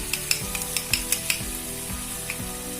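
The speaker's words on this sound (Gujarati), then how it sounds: "ચટણીનો વઘાર કરી લેશું આપણે" Hot oil with asafoetida sizzles steadily for a chutney tempering, a close hissing crackle broken by repeated sharp clinks of a spoon or utensil against the pan, with no voices.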